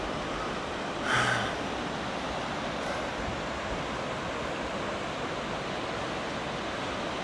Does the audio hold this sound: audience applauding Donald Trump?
no